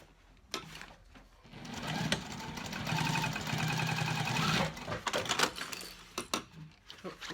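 Sewing machine running in bursts while stitching the side seam of a convertible backpack, a fairly close mechanical whir that starts, runs steadily for a few seconds and stops, with handling noises around it.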